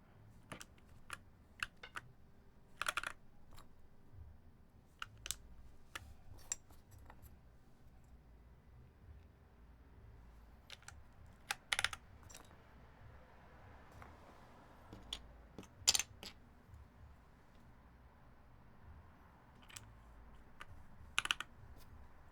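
Keystrokes on a rebuilt Tofu60 mechanical keyboard with a walnut case, sparse clicks in short bursts and single taps, close by and quiet, separated by pauses.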